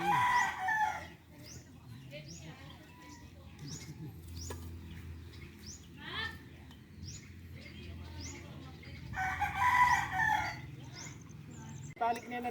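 Backyard chickens cluck and a rooster crows repeatedly, the calls rising in bursts over a low steady background, fairly close and loud.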